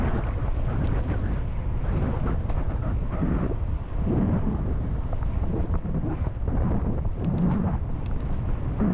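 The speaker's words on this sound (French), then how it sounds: "Il y a beaucoup de vent" Strong outdoor wind buffeting a microphone, a loud continuous low rumble with gusting swells and no break across the whole stretch.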